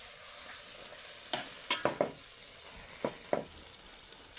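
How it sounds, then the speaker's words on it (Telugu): Gongura leaves are stirred in a cooking pan: a handful of sharp spoon scrapes and clinks come in two clusters over a faint, steady sizzle, close up and without speech. "ఇదిగోండి ఇలా మధ్య మధ్యలో ఇలా కలుపుతూ ఉండాలి"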